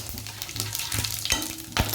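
Black pepper and cumin seeds fry in hot oil, a continuous close crackling sizzle with sharp pops and spits scattered throughout, steady and lively with no voices.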